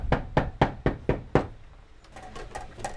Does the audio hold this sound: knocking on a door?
yes